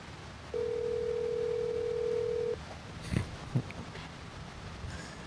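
A steady telephone tone plays during a call for about two seconds, clear and continuous, then stops, followed by a few soft handling knocks and faint background noise.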